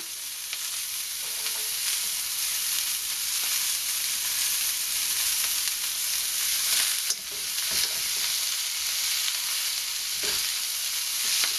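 Pork, string beans and garlic fry in a little oil in a pan, giving a steady bright sizzle with occasional stirring scrapes and clicks throughout.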